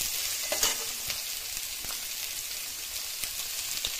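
Whole spices, including bay leaf, cinnamon bark, cloves and a cardamom pod, frying in hot oil in a pan: a soft, steady crackling sizzle with scattered pops and light stirring clicks, heard alone.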